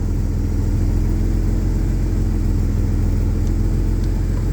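A Jaguar AJ30 VVT engine runs with a steady, loud, low drone and a fine continuous pulse that holds evenly throughout, with no talking over it.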